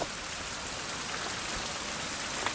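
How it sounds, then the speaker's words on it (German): Steady rain in the survival game Fountain of Youth, a dense, even hiss of falling drops that runs unbroken throughout with no voices over it. "ich kann nicht sagen, wie lange es hier tatsächlich immer regnet"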